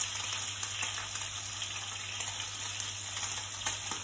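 Meat frying in a pan with a steady, dense sizzle and crackle of hot fat throughout, with faint dripping from lids, close and continuous without talk.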